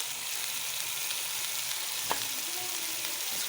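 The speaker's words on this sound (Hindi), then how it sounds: "अब इसमें मैं डाल दूँगी ये जो इमली का पानी मैंने निकाल के रखा है, ये मैं इसके अंदर डाल दूँगी।" Tamarind water poured into a pan of frying black chickpeas gives a steady soft sizzle and crackle, with one sharp splash-like pop near the middle.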